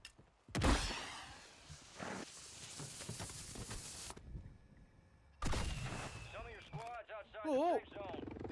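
Video game gunfire: sharp bursts of shots and a rapid volley in short bursts, broken by a brief lull, with sweeping electronic game effects and talk over the top.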